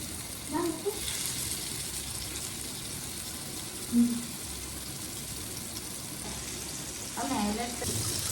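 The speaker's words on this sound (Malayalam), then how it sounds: "നമ്മൾ മസാല പിടിപ്പിച്ച് വെച്ച ചിക്കന് ഓരോന്നായി ചൂടായ എണ്ണയിലേക്ക് ഇടുക" Masala-marinated chicken pieces dropped one by one into hot oil, giving a steady, close sizzling hiss with a few brief bumps and splutters as pieces go in.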